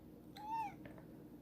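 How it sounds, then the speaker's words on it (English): A pet cat gives a single clear meow, rising and falling over about half a second, followed by a couple of softer chirps against a quiet indoor background. "And that's my kitty cat."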